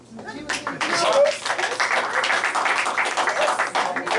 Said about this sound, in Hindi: ताली बज चुकी है।